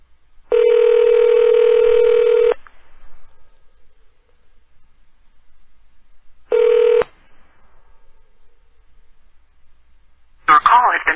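Touch-tone telephone keypad sounding two bursts of steady dialing tones, a long one then a short one with quiet gaps between, while a call is placed to a pet service; a brief noisy burst comes at the end.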